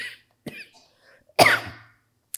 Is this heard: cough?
yes